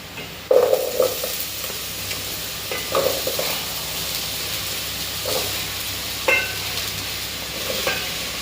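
Ridge gourd pieces with turmeric frying in a pan: a continuous sizzle broken by several bursts of stirring and spatula scrapes against the pan, close and fairly loud, with no voices.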